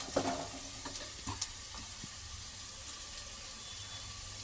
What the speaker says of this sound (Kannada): ಆವಾಗ ಕರಿಬೇವಿನ ಸೊಪ್ಪು ಹಾಕಿದ್ರೆ ಎಲ್ಲ ಪಟ ಪಟ ಸಿಡಿಯುತ್ತೆ